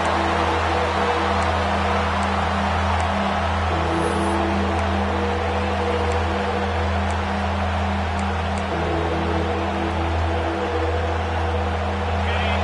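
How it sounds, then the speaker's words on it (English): Stadium crowd noise from the college football video game CFB26, a steady, dull roar of a distant crowd with a low engine-like hum and faint scattered ticks, holding even in level throughout. "the crowd coming to life here, trying to help this defense down in the red zone"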